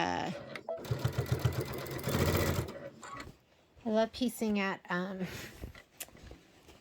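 A sewing machine stitches quilt borders through several layers in quick rhythmic bursts of mechanical whirring, alternating with someone talking nearby.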